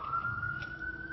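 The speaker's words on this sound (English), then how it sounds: "Hear that siren?" A brief, faint emergency siren sounds as a steady, slowly rising tone in the distance, heard alone with no talking.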